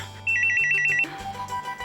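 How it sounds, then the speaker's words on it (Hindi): A telephone rings with a bright electronic melodic ringtone, loud and close, a quick repeating pattern of tones that shifts halfway through, with no one speaking. "ज़रा फोन उठाए ना"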